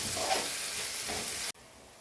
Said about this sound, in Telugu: ఇప్పుడు ఇందులో కొంచెం కొత్తిమీర, ఇవి బాగా ఫ్రై చేసుకోవాలి.